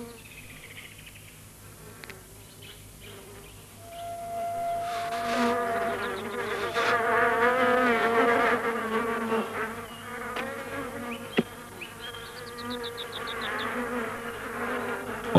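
Bees fly and buzz over sheets of paper in a feeding experiment. The buzzing starts faintly and swells into a dense, close, wavering hum from several insects.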